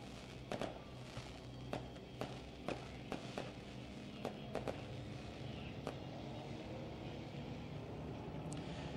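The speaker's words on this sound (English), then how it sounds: "Lone Wolf Fireworks lighting up the sky for our main event here tonight" Fireworks over a speedway before the main event, heard as a string of sharp, distant pops and crackles at irregular intervals over a steady outdoor hum.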